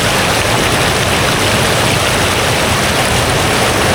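A river rushes past with strong force, a loud, continuous broadband roar of flowing water, close and unbroken.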